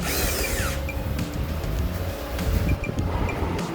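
A power drill drives screws into a tea and sweets table stand, giving a steady close whirring hum for a few seconds with faint higher whines as the screw seats, no speech.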